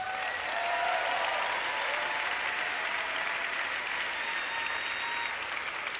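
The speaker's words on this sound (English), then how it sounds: "Please give these folks a round of applause." A tech-conference audience applauds the Figma team, steady crowd clapping heard from a distance and fairly faint, even in intensity throughout the few seconds.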